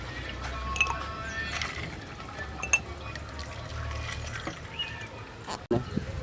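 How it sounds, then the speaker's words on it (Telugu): Ice cubes go into a glass of black jamun juice made with green chillies, giving a few clinks and liquid splashes over a low hum, with faint talk nearby. "ఇప్పుడు ఇందులో ఐస్ క్యూబ్స్ అయితే వేసుకుందాం."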